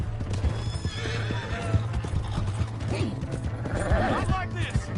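A horse in Red Dead Redemption 2 whinnies sharply twice over clip-clopping hooves, with brief voices and game sounds underneath.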